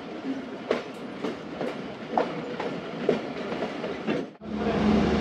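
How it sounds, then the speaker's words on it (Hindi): A train pulls out of Pipla railway station at night, a steady rumble with clickety-clack wheel beats on the rails, loud and close, shifting abruptly to a smoother roar near the end. "पिपला रेलवे स्टेशन से ट्रेन रवाना हुई है।"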